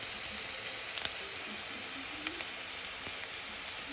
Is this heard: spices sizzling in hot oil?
yes